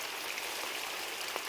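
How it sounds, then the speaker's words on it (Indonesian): Light drizzle falls on a rural transmigration settlement home, a soft, even hiss with faint scattered drops and no talking. "Ini tuh hujannya cuma gerimis-gerimis saja dari pagi sampai sore teman-teman"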